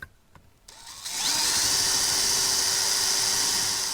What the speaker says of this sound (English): grab a larger drill bit and widen the holes